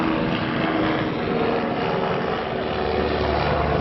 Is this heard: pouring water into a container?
no